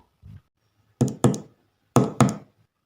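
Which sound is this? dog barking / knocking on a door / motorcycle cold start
knocking on a door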